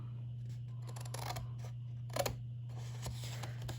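Scissors snip through material for a mini K-cup coffee carrier, making a few close, crisp cutting sounds over a steady background hum.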